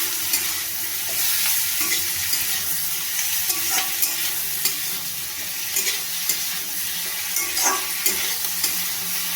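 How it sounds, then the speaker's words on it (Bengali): Chopped onion, tomato and capsicum frying in a pan for chilli egg, a dense continuous sizzle with occasional scrapes and taps of a spatula as the mix is stirred, close and fairly loud. "নুন দিয়ে দিলে তাহলে পেঁয়াজ, টমেটো আর ক্যাপসিকামটা ভালোভাবে ভাজা হয়ে যাবে।"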